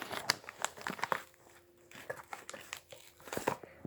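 Plastic wrapping on a toy package crinkles and tears in short, sharp bursts as it is opened, close up and fairly quiet, with brief pauses between the rustling handfuls.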